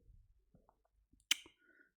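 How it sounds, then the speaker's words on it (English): A few faint, quiet mouse clicks while working in Power BI software, one sharper click standing out among soft scattered taps with near silence between them. "clicking on visualization tab"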